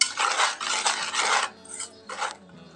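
A spoon stirs a caramel pudding mixture with a pinch of salt in a pan, rasping and scraping against the metal in three steady strokes, then two shorter ones, close and moderately loud with no talk.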